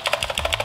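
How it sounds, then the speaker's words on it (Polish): Blue mechanical switches on a Media-tech Cobra Pro Inferno keyboard clicking in a quick, even run of about eight crisp, close keystrokes. "te przełączniki tutaj są mechaniczne, niebieskie. No i oczywiście słychać, jak klikają."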